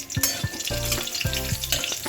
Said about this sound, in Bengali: কড়াইটা গরম হয়ে গেছে, এতে একটু তেল দিয়ে দিলাম। এতে উপর দিয়ে দিলাম কতগুলো কাঁচা লঙ্কা।